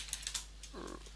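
Three crisp keyboard key clicks tap out quickly, followed by a brief muffled voice fragment.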